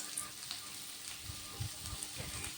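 Onion and garlic frying in a pan for a prawn and taro-leaf dish, a steady low sizzle and crackle throughout, fairly quiet, with no talking.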